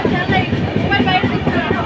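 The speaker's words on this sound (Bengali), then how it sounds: "পাচ্ছেন ওই পাশে একটা এক্সপ্রেস যাচ্ছে" An express train runs past on the neighbouring track near Belda station in West Bengal, heard from inside another moving train: a loud, steady, dense rumble with rattling clatter throughout.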